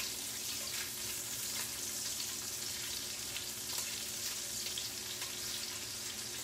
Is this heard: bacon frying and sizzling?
yes